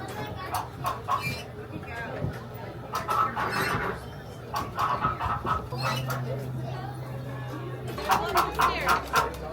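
Chicken clucks and squawks come in short bursts over steady background hum, with people talking nearby on Tom Sawyer Island at Magic Kingdom.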